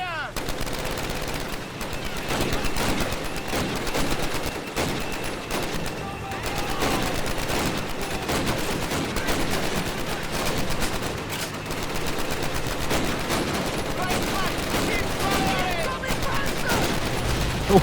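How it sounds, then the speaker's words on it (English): Sustained machine gun and rifle fire crackles through a Call of Duty: United Offensive battle, dense overlapping bursts running nonstop at high volume with shouted voices mixed into the din. "Machine guns! Machine guns ready!"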